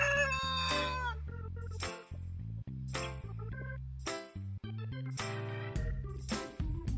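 Several clucking and squawking bird calls, loud and close, with harmonic cries and brief pauses between them, in the manner of chickens or a crowing rooster.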